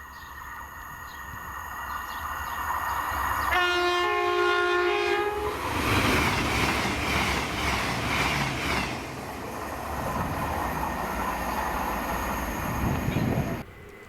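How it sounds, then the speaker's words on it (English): A CrossCountry class 221 unit, 221132, passes through Monifeith: a loud two-tone horn blast sounds early on, followed by a sustained rumbling roar and wheel noise as the train runs close by for several seconds before fading. "this is 1S45, the 1940 cross-country service to Aberdeen from Wakefield Westgate"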